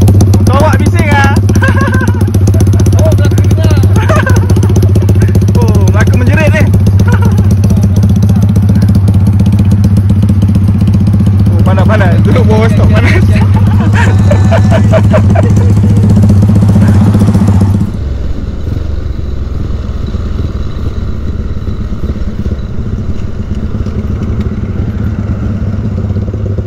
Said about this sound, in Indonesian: Motor awak bising ah.